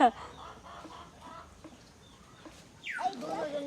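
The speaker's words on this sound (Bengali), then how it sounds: "এটা তো মুরগা" A rooster clucks faintly in an open-air rural cooking spot, with a clearer call near the end and quiet voices in the background.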